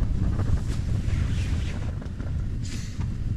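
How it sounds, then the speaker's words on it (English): Wind gusts buffet a tent pitched on a freezing wild camp on Cross Fell, giving a steady low roar with rushing flaps and rustles and a louder gust near the end, with no voices. "the wind's blowing a bit"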